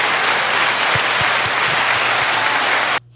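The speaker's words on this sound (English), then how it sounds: "Had to give them their applause." Dense, loud applause from a live audience, steady and close for about three seconds, with a few heavier claps standing out before it cuts off abruptly.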